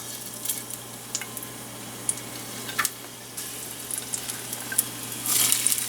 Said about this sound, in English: you have your onion and garlic getting there in a golden brown